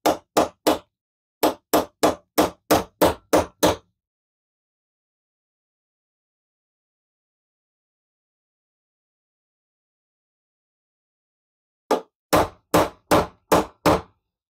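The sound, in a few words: big hammer punching out parts on Caterpillar D2 cylinder head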